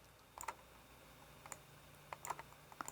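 Quiet keyboard keys pressed while editing video, a few scattered clicks in small bursts against a near-silent room.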